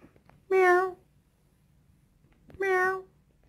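Two drawn-out, tonal meows about two seconds apart, loud and close over a quiet background; a human voice imitates a cat's meowing.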